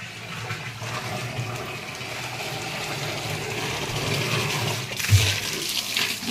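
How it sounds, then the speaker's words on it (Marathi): Borewell water gushing out at full force, a loud, continuous close rush of water that holds steady and swells slightly near the end. "फोर्स किती आहे बघा बोरच्या पाण्याला"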